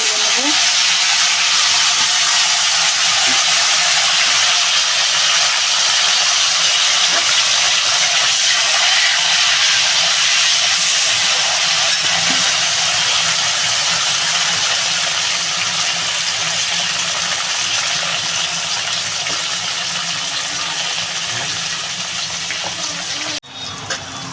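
Continuous loud sizzling of sliced bitter gourd frying in hot oil, a steady hiss close by that barely changes for the whole stretch.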